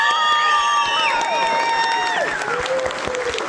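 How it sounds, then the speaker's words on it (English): An audience at a horror host show claps steadily through the whole stretch, with the applause mixed under sustained gliding musical tones. "let's have a round of applause for Ron"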